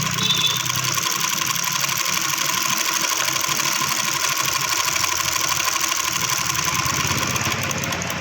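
A button hole sewing machine runs in a steady, loud mechanical whir with a fast even stitching rattle throughout, close by, with no speech over it.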